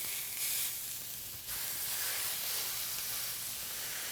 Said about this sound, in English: Now that the pan's hot, I'll add the ground beef.